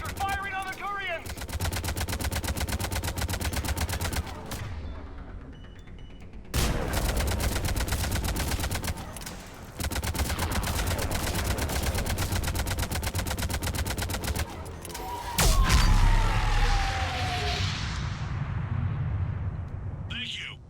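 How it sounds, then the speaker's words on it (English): Sustained heavy gunfire and machine-gun bursts rage in a Mass Effect battle as a Harvester fires on Turian forces, loud and continuous with brief gaps and an explosive swell near the end. "Harvester firing on the Turians!"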